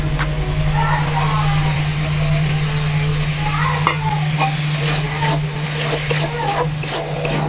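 Shrimp frying in oil with a spiced masala in a home kitchen, a steady sizzle with stirring scrapes throughout under a constant low hum.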